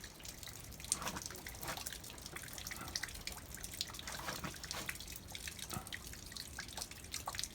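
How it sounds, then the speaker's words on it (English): Water from melting snow drips off a roof on a mild day, a steady scatter of soft, irregular drops against a faint outdoor background, fairly quiet and with no one talking. "That water's dripping off the roof."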